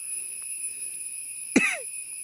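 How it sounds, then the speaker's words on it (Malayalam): A single sharp cough bursts out during a mountain trek, brief and fairly close, against a steady background hum with no talking. "ചുമ പിടിച്ചു എൻ്റെ അമ്മോ."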